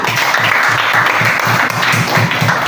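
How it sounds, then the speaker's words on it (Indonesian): A class of pupils applauds together, a dense, steady wash of clapping that is loud and close and keeps a quick, even rhythm throughout. "Tepuk tangan buat kita semua."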